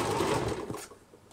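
An old domestic sewing machine runs briefly while stitching down a small doll dress seam, a short whirring burst that fades out after about a second.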